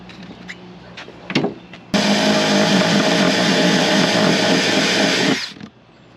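A power drill bores a hole for a Starlink cable outdoors: a few light taps first, then one loud continuous whirring run of about three and a half seconds that cuts off abruptly.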